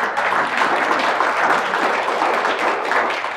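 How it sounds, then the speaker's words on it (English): An audience at a church talk applauds steadily, a dense wash of many hands clapping at once without a break, fairly loud and sustained. "Yeah, you can clap."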